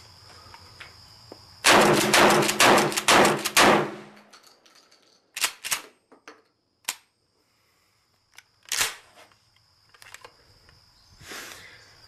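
Rapid gunfire at an outdoor shooting range, a fast string of about six sharp, loud shots followed by scattered single reports and metallic clangs.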